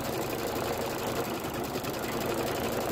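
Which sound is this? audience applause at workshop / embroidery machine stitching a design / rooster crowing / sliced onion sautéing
embroidery machine stitching a design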